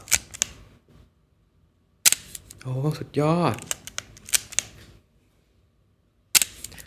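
A few sharp mechanical shutter clicks from a Leica M3 rangefinder camera firing at a slow 1/25 speed, spaced well apart, with a short excited exclamation from a person between them.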